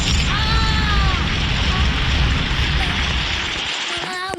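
Fire is thrown in the video game Chicken Gun during a zombie apocalypse mode, a loud continuous roaring whoosh of flames with rising tonal game effects, fading slightly toward the end.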